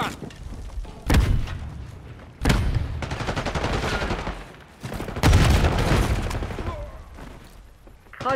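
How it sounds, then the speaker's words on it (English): Stun grenade blasts in Call of Duty Black Ops 6, part of a hardpoint match. Three heavy booming bursts land a few seconds apart, each trailing into a rumbling, crackling tail of battle noise. "Throwing stun."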